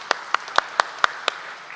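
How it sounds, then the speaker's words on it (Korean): Six or seven sharp, evenly spaced hand claps ring out at a church gathering, a brief, sparse rhythm over quiet room tone with no one speaking. "우리 하나님 경강의 박수 한번 드리고 하겠습니다."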